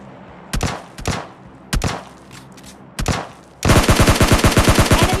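Automatic gun fire in PUBG Mobile Lite: a few separate loud single shots, then a sustained rapid burst of evenly spaced rounds near the end, loud and close with no talk.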